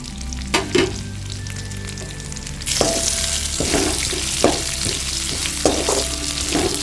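Curry leaves sizzling and crackling in hot oil in a pan, with periodic scraping knocks of a spoon stirring, steady and close, no talking.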